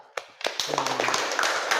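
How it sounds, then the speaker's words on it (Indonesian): Students in a classroom clapping: a few scattered taps build into a short burst of clapping from a small group, close by, with a faint voice at the start. "Tepuk tangan."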